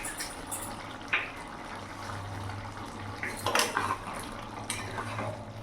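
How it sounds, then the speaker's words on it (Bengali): A spoon stirs jackfruit and shrimp curry in a pan, making occasional metallic clinks and scrapes against the pan over a low, steady background hum. "ভালো করে নাড়াচাড়া করে নেব"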